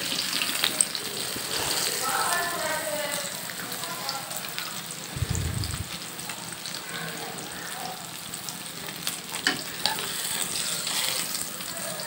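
Pieces of Japanese puti fish frying hard in hot oil until red and crisp, giving a dense, steady crackling sizzle up close, with a low thump partway through and occasional utensil clicks.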